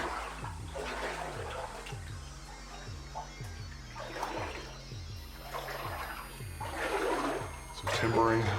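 Water trickling and splashing in an underground gold mine tunnel with timbered walls and ceiling, a steady wash with splashy surges, heard under people talking and a low rhythmic thumping pulse.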